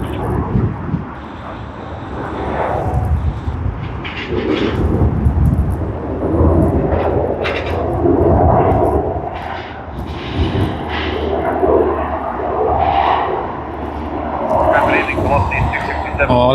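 An aircraft taxis at Sydney Airport on a Friday evening, its engine noise a steady low rumble that swells and eases across the whole stretch, with people talking over it throughout.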